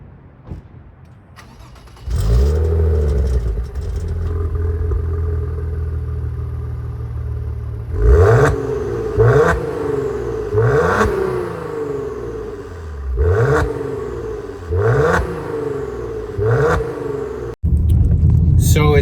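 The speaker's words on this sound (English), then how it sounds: "The exhaust note out of this thing is pretty crazy." A Maserati Ghibli exhaust revs up in a series of sharp, loud blips, each rising and falling in pitch over a steady idle rumble, close by and repeated about five times with a brief cut near the end.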